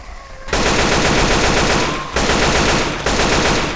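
Rapid automatic gunfire in Left 4 Dead 2 on a custom haunted forest map, loud and close, coming in three long sustained bursts of dense, continuous shots separated by very brief gaps, with no talking over it.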